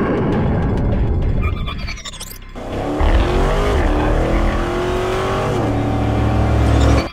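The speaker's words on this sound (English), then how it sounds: "Say hello to the Camaro SS 1LE and the Corvette Grand Sport." A 2018 Chevrolet Camaro SS 1LE and a 2018 Corvette Grand Sport on a race track, loud V8 engines roaring and revving through gear shifts, with a brief tire squeal and the engine note rising again, close and continuous.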